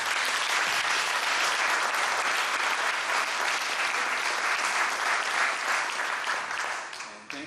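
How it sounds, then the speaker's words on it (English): Loud, dense audience applause for visiting state legislators at a community meeting, steady and close, tapering off toward the end. "So I want to give them a round of applause"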